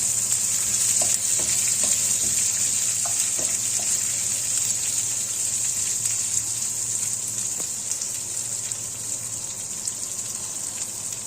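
Onion, green chili and ginger frying in a pan for buttermilk rasam: a steady, continuous sizzle with a bright hiss, with a few faint pops and crackles, close and alone without talk.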